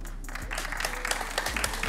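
An audience at a debate breaks into applause, a short burst of many hands clapping at moderate distance, swelling slightly toward the end.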